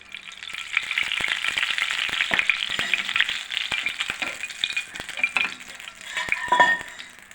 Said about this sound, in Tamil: சட்டி காய்ஞ்சிச்சு எண்ணெய் ஊற்றிக்கலாம்